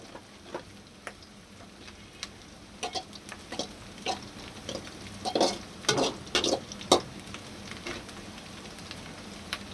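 Rice being fried and stirred in hot oil in a pan, with scattered crackling sizzles and scraping stir strokes that grow busier midway, close and fairly quiet, with no talk.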